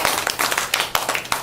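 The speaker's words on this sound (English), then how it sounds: "Can I have a round of applause for that answer?" Scattered, brief clapping in a classroom, a few people slapping hands in an uneven quick rhythm for about a second and a half, fairly close and moderately loud.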